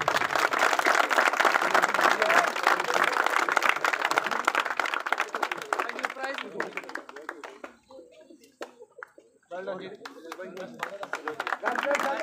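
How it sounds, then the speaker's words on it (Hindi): An audience claps and applauds at a cricket final prize ceremony, with dense sustained applause that thins into scattered claps, then swells again toward the end. "तालियां जी"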